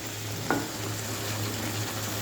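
Food is being stir-fried (kosha) in a pan with a steady, quiet sizzle under a low stove hum. A single brief scrape of a utensil cuts in near the start.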